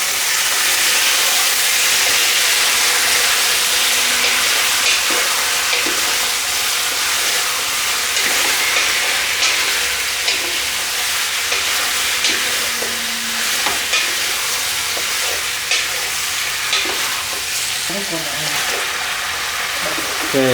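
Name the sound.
pork belly being stir fried in a pan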